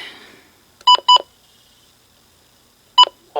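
Weekly NOAA Weather Radio EAS required test tones: two short loud bursts of a sharp electronic tone, a pause, then a third burst before a voice starts at the end.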